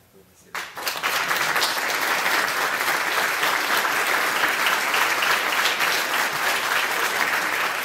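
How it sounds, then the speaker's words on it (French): A burst of audience applause after a stage show begins abruptly and holds as dense, sustained clapping from a sizable crowd, loud and even for several seconds. "Merci, applaudissez-le."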